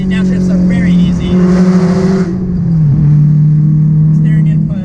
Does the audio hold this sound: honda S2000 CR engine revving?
yes